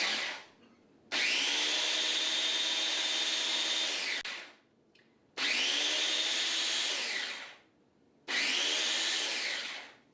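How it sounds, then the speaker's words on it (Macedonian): An electric grinder whirs through garlic cloves in three long, loud bursts, each a steady high whine that starts abruptly and winds down into short pauses. "Наместо да го толчам, го мелам"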